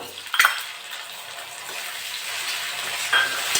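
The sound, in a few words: shrimp frying in a pan with onions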